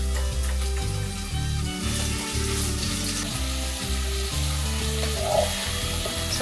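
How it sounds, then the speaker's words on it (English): Steady sizzling of onions lightly frying in a pan fills the clip at moderate loudness, with a low rhythmic hum underneath and no talking. "lightly frying the onions, letting them get nice and soft."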